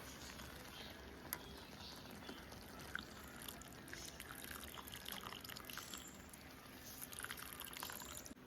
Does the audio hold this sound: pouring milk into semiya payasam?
yes